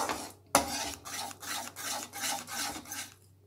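A sweet syrup mixture stirred in a pot for a Karthigai Deepam prasadam, heard as close, rhythmic scraping strokes, about eight in a row, after a sharp clink of the spoon against the pot.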